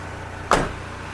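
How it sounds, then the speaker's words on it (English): A car's power window motor hums briefly on an 1987 Oldsmobile Toronado as the window is lowered, a short close whir rising out of a low steady background and then fading. "May actually crack a window while we're at it."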